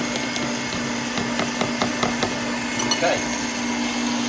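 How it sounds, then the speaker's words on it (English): Six eggs whisked in a bowl for a mint chocolate marble cake sponge, a steady electric whirring hum with faint rhythmic taps, under a brief spoken word. "6 eggs, just give them a bit of a whisk,"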